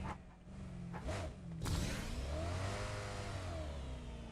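A car engine in PUBG Mobile on the Erangel map revs up and surges in a rising whoosh, then holds a steady, loud mid-pitched drone through to the end, with no talk over it.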